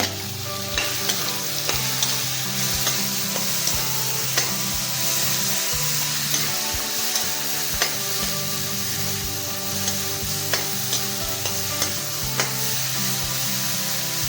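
Onion, ginger and garlic paste fries with whole cumin in a pan. It gives a constant loud sizzle, broken by repeated scrapes and taps of a stirring spoon, and no voices are heard.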